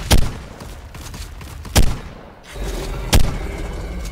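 Three heavy gunshots from a weapon in Ark Survival Evolved Mobile, each a loud, sharp boom spaced about 1.5 seconds apart over a steady background of game ambience.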